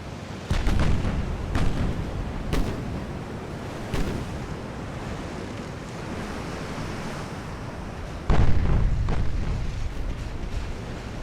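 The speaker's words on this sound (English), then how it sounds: "I like the sound of those casemates firing. You got this nice deep thrum to them. They are 8-inchers." Deep booming reports from 8-inch casemate guns on a warship in the naval video game Ultimate Admiral: Dreadnoughts, several heavy thuds spread over the stretch with a rumbling sea-and-wind wash continuing underneath.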